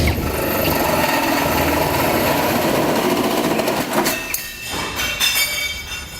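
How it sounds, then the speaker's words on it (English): A 4-inch hole saw bores through the steel bed of a 2016 GMC Sierra pickup, a loud, sustained grinding whine that breaks into uneven bursts and stops near the end. "Now we'll take a 4-inch hole saw, go into our pilot hole, make our hole for our gooseneck ball to come through"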